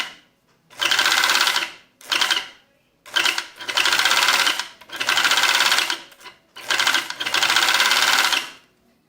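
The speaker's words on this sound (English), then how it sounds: "Here we have the home overlock, and we are going to see right now how the stitching is coming out." A home overlock sewing machine stitching in several loud, close bursts of rapid mechanical whirring, each run lasting about a second or two and separated by short pauses.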